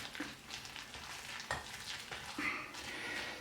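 A mixture being stirred in a frying pan, with soft scraping and a low sizzling hiss throughout, a few sharper clicks of the utensil against the pan, close and moderately quiet, no talking.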